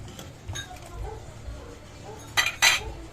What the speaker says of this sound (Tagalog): Ilalagay ko na guys ang bangus.